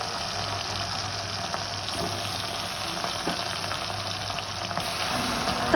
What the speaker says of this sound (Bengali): তারপরে কড়াই তেল গরম করে মাছগুলো ভালোভাবে ভেজে নেব।